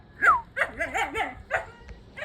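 A tied-up dog on a hill outside yips and whines in a quick burst of short, pitch-bending cries, fairly close and fairly loud, with no talk over it.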